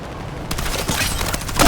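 Dense, loud bursts of gunfire and booming blasts fill the clip, overlapping in a chaotic volley up close.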